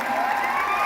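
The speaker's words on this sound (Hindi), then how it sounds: "एक बार फिर से अनु मैम के लिए जोरदार तालियां हो जाए" A live stage show audience in India claps and cheers for a performer in a steady, dense roar of applause and voices that holds at an even level throughout.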